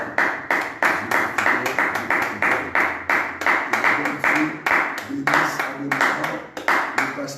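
A midday prayer congregation claps together in a quick, steady rhythm, sharp regular beats from many hands close by, with faint voices underneath.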